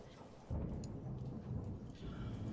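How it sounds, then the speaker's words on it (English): Thunderstorm ambience in a Foundry VTT tabletop game session: a low rolling thunder rumble swells in over steady rain hiss and keeps grumbling beneath it, with no voices. "Let me turn the storm down."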